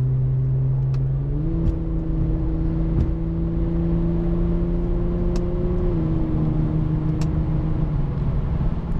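A Nissan VQ engine with a Speed Culture Studios custom exhaust drones steadily and loudly. Its pitch steps up, holds, then eases back down as it revs during a drive, with no talking.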